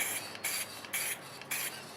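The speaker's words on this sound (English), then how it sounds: "I think I'm going to spray it just because I want the saturation of that to come out" Aerosol sealer sprayed onto stamped artwork: four short hissing bursts of spray, evenly spaced about half a second apart, faint and close with quiet pauses between.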